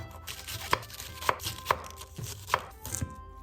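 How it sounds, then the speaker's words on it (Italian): A knife chops halved white cabbage into pieces on a board, giving about six sharp, close thuds in quick, slightly uneven succession. "Utilizzeremo poi 200 g di cavolo cappuccio, lo dividiamo a metà e anche in questo caso lo tagliamo all'incirca della lunghezza delle altre"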